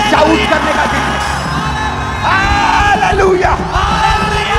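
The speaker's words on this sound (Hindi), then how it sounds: "आज चिल्लाने का दिन है, शाउट करने का दिन है" Large congregation at an Easter celebration in a church erupts in loud, sustained shouts and whoops, a dense roaring crowd of voices rising and falling in waves.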